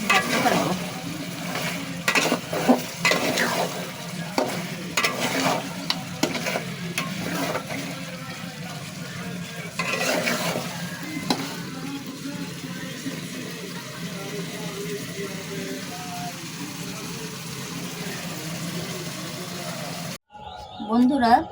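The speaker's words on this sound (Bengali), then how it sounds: "তৈরি হয়ে গেল সুস্বাদু মজাদার গরুর মাংসের ভাজা" Beef with garlic is stir-fried in a pan in a home kitchen, a continuous sizzle with intermittent scraping and clinks of utensils, and a voice speaks over it.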